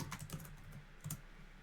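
Typing on a computer keyboard: a handful of quick, light key clicks in an uneven rhythm, close and very quiet, with no talking.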